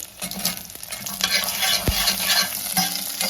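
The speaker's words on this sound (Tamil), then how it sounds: "எல்லாத்தையுமே நல்லா வதக்கி விட்டுக்கோங்க" Two dried red chilies and ten garlic cloves sautéing in a pan, a continuous crackling sizzle with a clear spoon knock against the pan partway through, heard up close with no voices.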